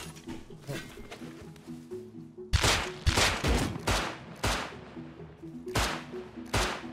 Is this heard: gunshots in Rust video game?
yes